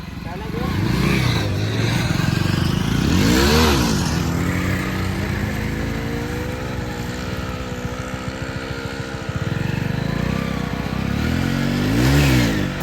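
A 100cc motorcycle engine revs hard and repeatedly, rising and falling in strong bursts close by, with someone talking over the sustained engine noise throughout.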